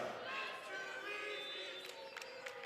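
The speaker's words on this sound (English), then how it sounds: "as the crowd chants, that's too easy" A varsity boys soccer crowd chants at a Darien match against Fairfield Prep, a fairly faint, sustained sung chorus from a distance with a few thumps and shouts near the end.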